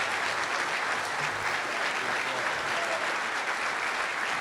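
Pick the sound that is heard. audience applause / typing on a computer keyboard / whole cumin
audience applause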